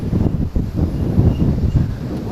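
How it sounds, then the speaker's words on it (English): Strong wind buffeting a microphone on a riverside bike ride along the Katy Trail, a loud continuous rumbling roar with gusty surges and no other sounds over it. "Boy, it's windy."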